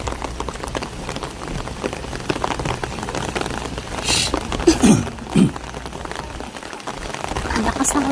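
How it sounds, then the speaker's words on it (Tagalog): Heavy rain falls steadily at Sun Moon Lake in Taiwan, a constant dense patter on surfaces, while voices murmur nearby. "Ang lakas ng ulan."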